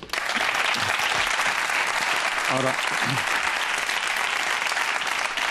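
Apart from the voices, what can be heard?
audience applause for José Antonio Marina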